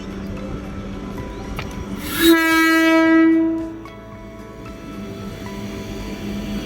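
A train at a railway station gives one long, loud horn blast lasting over a second, rising above the steady rumble of rail traffic before fading back to the low background.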